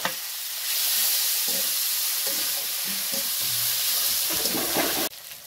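Ginger garlic paste hits a hot pan with onion, tomato and green chili, giving a loud broadband hiss that swells and holds for about five seconds before cutting off sharply.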